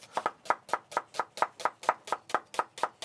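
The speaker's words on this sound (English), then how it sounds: "We're just going to slice a red onion and fry that off" Knife slicing a red onion on a board, about a dozen crisp, evenly spaced chops in a quick steady rhythm, close and fairly quiet with no talk.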